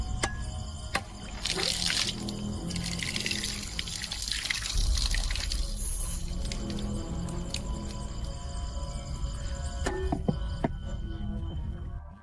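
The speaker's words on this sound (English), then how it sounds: "breaking a coconut and letting the water fall on the person's face" Coconut water pours down onto a person's face after a coconut is broken during a cleansing ceremony, a steady splashing trickle that runs for several seconds alongside scattered clatter.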